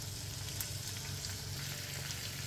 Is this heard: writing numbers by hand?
no